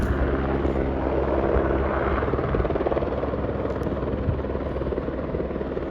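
Loud, steady helicopter rotor drone, close and continuous, with a low throbbing engine rumble throughout.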